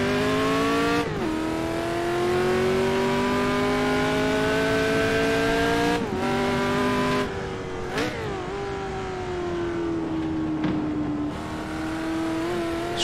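A prototype race car in Assetto Corsa screams at high revs with rising and falling engine tones, sharp downshifts and drops in pitch under braking around the 1, 6 and 8 second marks, close and loud with no talk.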